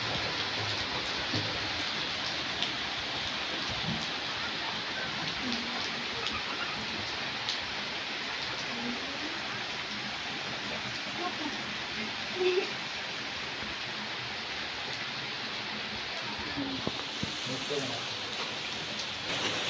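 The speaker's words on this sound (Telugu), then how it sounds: "కొంచెం పెద్దగా అయింది వర్షం." Steady rain pouring down, a dense even hiss with scattered drop patters throughout, fairly close, with no other sounds standing out.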